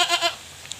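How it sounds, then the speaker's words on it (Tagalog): A pregnant goat gives one short, close, wavering bleat, heard alone and quickly fading into quiet. "At ito yung kambing natin iba."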